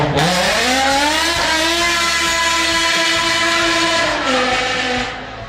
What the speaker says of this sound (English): featuring a highly revving V10 engine that produces an exhilarating sound as an F1